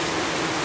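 Rainwater rushes away through a freshly dug ditch in a village after heavy rain, making a brief, loud, even hiss of flowing water.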